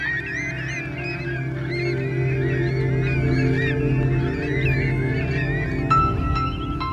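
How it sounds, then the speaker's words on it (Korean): Migratory birds, goose-like honkers, call in a busy overlapping chorus at the Seocheon tidal flat, steady and fairly close over a low background rumble, with no talking. "철새들이 서천갯벌로 날아들고 있기 때문입니다."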